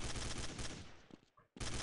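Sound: shotgun fire in Counter-Strike Condition Zero video game

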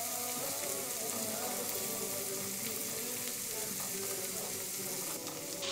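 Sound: three eggs frying in a little oil

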